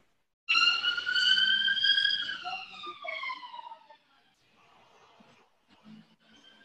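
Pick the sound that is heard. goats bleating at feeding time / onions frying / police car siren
police car siren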